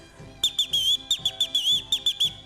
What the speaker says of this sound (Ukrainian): Я вам покажу, як вони свистять.